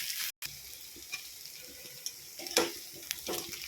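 Pakora pieces fry in oil, a soft scattered sizzle with a few sharper pops and crackles near the end, fairly quiet and close, with no voices.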